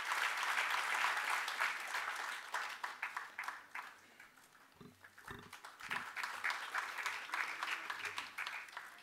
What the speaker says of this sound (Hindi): एक बार तालियों की गड़गड़ाहट से हम इस सभागार को गुंजायमान करते हैं।